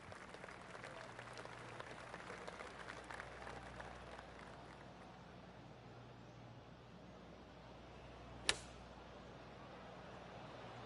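Light, scattered golf-clap applause after a shot on the 13th hole in a PGA Tour video game, a polite smattering of claps over a quiet outdoor background, with one sharp click near the end.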